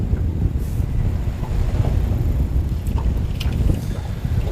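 Wind gusts sweep over a lake during fly fishing in October, a steady low rumbling roar with wind buffeting the microphone, a few faint higher knocks, and nobody talking.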